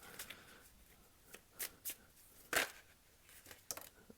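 Tarot cards shuffled and drawn: several soft, separate riffling and slapping bursts, one sharper flick near the middle, quiet and close with no talk.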